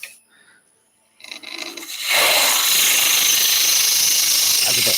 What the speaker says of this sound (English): I'm going to rough out with a bowl gouge just to take some of this out.